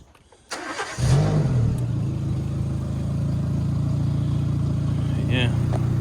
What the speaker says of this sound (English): we'll give it a start up and we'll have a listen to this exhaust